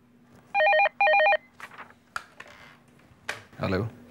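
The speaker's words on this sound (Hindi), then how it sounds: "जरूर मेरे अमर का ही फोन होगा।" A telephone rings in two short bursts of bright, trilling bell tones indoors, followed by scattered speech and movement sounds.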